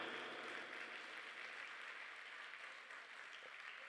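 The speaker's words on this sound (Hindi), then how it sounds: "एक जोरदार थोपड़ी अपना सबके लेल दे दियौ" A Maithili play audience at Premchand Rangshala gives sustained applause, a dense, even wash of clapping from a crowd in a theatre.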